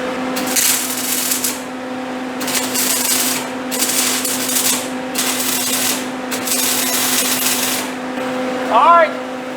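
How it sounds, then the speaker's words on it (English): Tack welding on the steel frame of a homemade trailer: several short bursts of crackling, sizzling arc, each a second or so long with brief gaps, over a steady background hum. "I'm gonna go tack that other side real quick."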